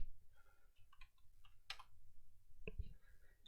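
A few soft, scattered keystrokes on a computer keyboard, faint and close, with irregular clicks and short pauses between them.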